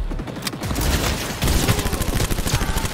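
Rapid bursts of gunfire in the video game Cyberpunk crack out across the whole stretch, dense and loud, with overlapping shots and booms like a firefight.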